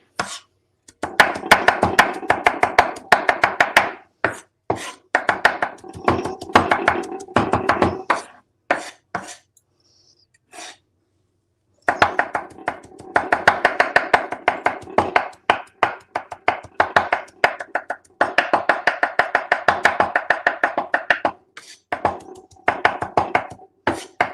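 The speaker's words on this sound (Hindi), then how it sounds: "इस तरह हमने हरा प्याज बारीक बारीक कर लिया है" Green onions being finely chopped with a knife on a board, a fast steady run of close, sharp knocks that pauses briefly in the middle and then carries on at the same brisk pace, with no talk.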